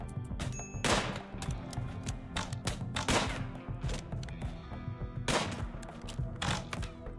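Gunfire in the video game RimWorld, with several quiet, scattered bursts of shots and thuds over a soft background, and no voices.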